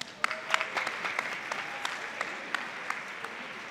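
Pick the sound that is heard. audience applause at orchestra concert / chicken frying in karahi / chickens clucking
audience applause at orchestra concert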